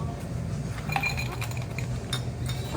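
Glass clinks lightly as a cocktail glass is chilled behind a bar, soft scattered taps and chinks of glass and ice over low room noise.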